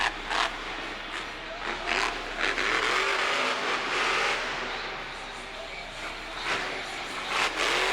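A monster truck at Monster Jam in St. Louis roars through a jump over the center obstacle, engine droning steadily with surges as it launches and lands, heard at a distance across a noisy stadium crowd.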